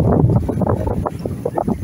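Wind of about 12 knots blowing across a sailboat at sea on a solo passage from the Marquesas to the Tuamotus, a steady close buffeting rumble with gusty fluctuations and no talk.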